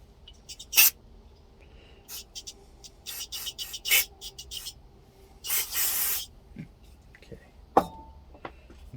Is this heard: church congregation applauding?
no